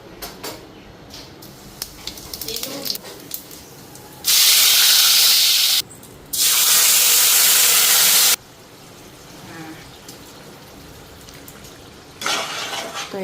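Cumin seeds hit hot oil in a pan and sizzle with a loud, bright hiss in two bursts of about two seconds each, then a third burst near the end, with quieter kitchen clatter in between.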